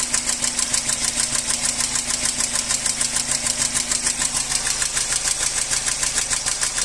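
A car engine with knocking valves, idling: a steady, rapid metallic ticking repeats evenly over the running motor, close and loud, with no talk.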